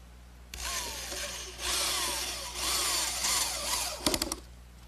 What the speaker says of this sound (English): I'll fasten it in place with a 2-inch drywall screw.